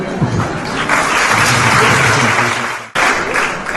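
Audience at a social forum applauding a speech, a sustained wash of many clapping hands that swells and holds, cuts off abruptly near the end, then resumes.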